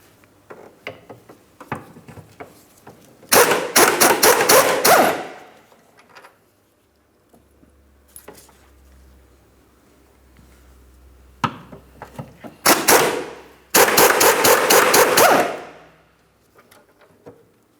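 An air impact wrench removes 18mm mounting bolts from the subframe of a 2004–2008 Pontiac Grand Prix, loud rattling bursts of a second or two with quiet gaps and faint clinks in between.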